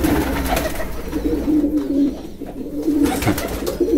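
Homing pigeons coo steadily and close by in a loft while carrying broom straw to build a nest, the low repeated coos running throughout with no talk.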